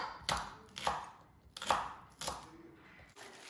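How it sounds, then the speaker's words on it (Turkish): A knife chops green onions on a cutting board in a few crisp, irregular strokes, close up, with quiet pauses between cuts. "Şimdi yeşil soğanlarımı doğruyorum"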